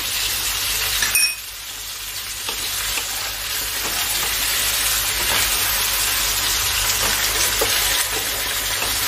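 Cumin powder and water-soaked grated ginger fry in a pan with a loud, steady sizzle and hiss, a light stir and clink near the start, and no voices.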